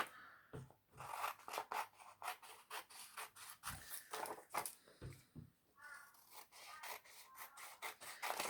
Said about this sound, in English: So I'm going to give that a little trim out.